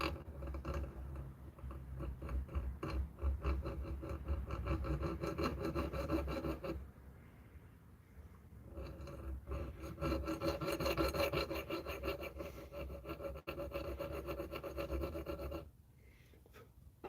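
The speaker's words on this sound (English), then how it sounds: "Just use the edge of the file. Do I have a knife edge file with me?" A knife edge file rasps across brass in steady, close back-and-forth strokes, with a couple of brief pauses between runs and no voices.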